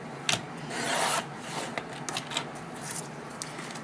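Card paper for a house card is cut, giving a near, dry rasping slice followed by a series of short scratchy snips and rubs; no talking.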